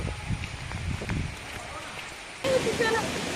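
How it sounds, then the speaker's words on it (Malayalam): Steady rain falls outdoors beside a stream near the Pathayakkund waterfall, a continuous broadband hiss that swells louder near the end, with people talking over it. "നല്ല മഴ വരുന്നുണ്ട്"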